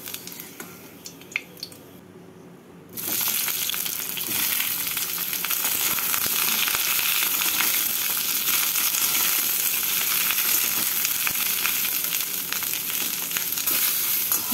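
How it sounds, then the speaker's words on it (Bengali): Eggplant pieces drop into hot mustard oil and burst into a loud, dense, continuous sizzle after a quieter start, with occasional soft squishes and stirring close by. "আলুগুলোকে তুলে রেখে এই তেলের মধ্যে বেগুনগুলোকে ভেজে নেব।"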